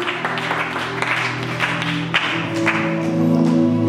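A church congregation claps in rhythm during worship. The clapping is loud and rapid and runs over sustained organ or keyboard tones that continue under it.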